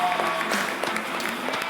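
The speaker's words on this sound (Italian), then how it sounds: "un bel applauso" Brief applause from a small group after a performance in a local TV broadcast studio, steady scattered clapping with a few sharper claps and faint voices in the background, lasting under two seconds.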